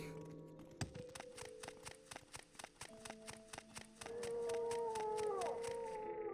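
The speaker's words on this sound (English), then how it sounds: "I do love the howls of the Silt Striders." A Silt Strider creature in the video game Morrowind gives a long, drawn-out howl that swells and wavers, rising over a rhythmic series of sharp, evenly spaced taps and a low background hum.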